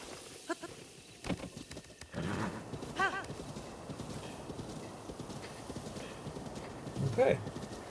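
Horse hooves clop in the Breath of the Wild video game, a light rhythmic patter of game footsteps running beneath a voice that talks over most of the stretch.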